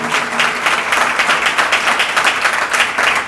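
An audience at a religious discourse gathering breaks into steady, loud applause, many hands clapping densely and continuously for a few seconds.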